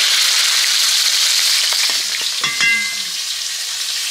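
Large fish fry loudly in hot oil over a wood fire, a dense continuous sizzle and crackle up close, with a brief clatter of turning and scraping partway through.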